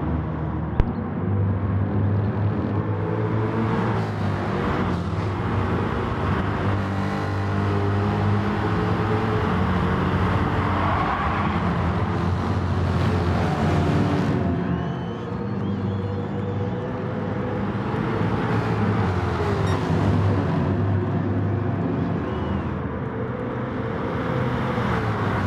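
Racing cars in a Supercars video game race replay, several engines roaring steadily and close together for a long stretch, with no talk over them.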